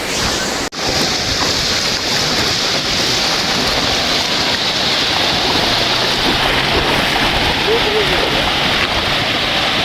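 Steady sea surf at Digha beach in West Bengal, a continuous broadband wash of waves with wind noise, loud and unbroken throughout, no talking.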